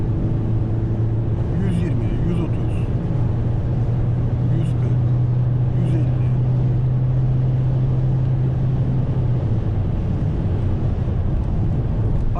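A Ford Focus 1.5 TDCi Trend X diesel hatchback accelerates at full throttle on a wet road in the rain, with a steady engine drone under heavy road and rain noise filling the cabin.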